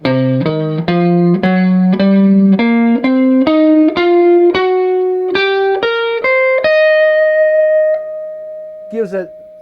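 A distorted electric guitar plays a rising bluesy pentatonic run with an added blue note, each note picked separately, ending on a long sustained note and a brief scrape.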